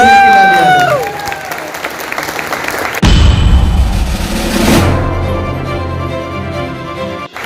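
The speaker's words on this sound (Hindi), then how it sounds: "आप अपने कामयाबी के लिए ताली बजा दो" Audience applause for their own success at a Hindi motivational business talk, a dense wash of clapping that swells after a few seconds and carries on steadily with crowd noise underneath, following a brief stretch of voice.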